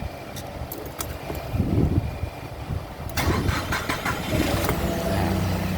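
A car engine with a throttle position sensor circuit fault (error codes E-23/E-31) cranks and catches, then settles into a steady idle that continues close by, with no talking.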